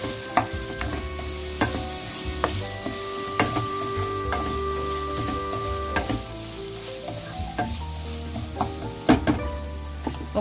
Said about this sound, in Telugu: చక్కగా మెత్తగా వేగిపోయిన దాంట్లో ఇప్పుడు ఈ నత్త ముక్కలన్నీ వేసేసుకుంటున్నాను